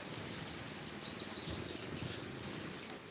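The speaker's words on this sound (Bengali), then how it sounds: "পাখি ডাকছে কিচির মিছি শব্দ" Small birds twitter in a quick series of faint, high chirps on a wet, rainy morning in front of a mosque beside the Uthura College field, heard at a distance over a soft, steady background hum.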